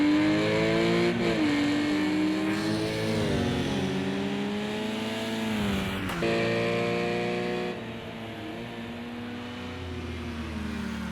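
A race car leaves pit lane in a sim-racing endurance race at Imola, its engine whining as it accelerates through rising gear shifts, close and loud, with a brief lift before revving again.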